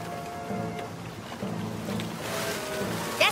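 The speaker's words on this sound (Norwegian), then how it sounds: "Bølgene blir kjempedigre." Large ocean waves surge and wash around a boat at sea, a steady rushing swell with wind noise, building toward the end with a brief louder splash.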